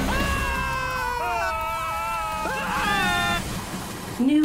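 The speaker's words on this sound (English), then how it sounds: "New best scream rating. Scream Rider test passed. Greater screams achieved." Screaming riders on a roller coaster in the video game Screamride, high wavering cries rising and falling together throughout, loud and close over a steady background roar.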